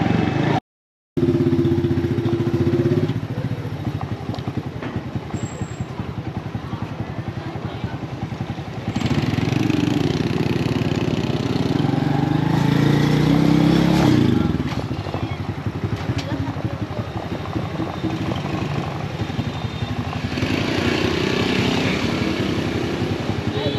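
A motorcycle rides through the streets of Hoi An, Vietnam, its mid-pitched engine droning and rising and falling over most of the stretch, with wind and traffic noise and people talking over it.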